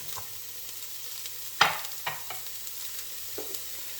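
Chopped carrot and red pepper are stirred in a soup pot for a kale miso soup, giving a soft sizzle with a few distinct scraping clicks from the spoon and no talk.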